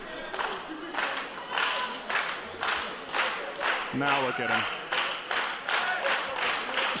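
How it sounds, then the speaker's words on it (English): A wrestling crowd at a Dragon Gate USA show chants a wrestler's name in a steady rhythmic beat of repeated shouts. A commentator talks briefly over the chant. "He's got an entire crowd here chanting his name and getting behind him."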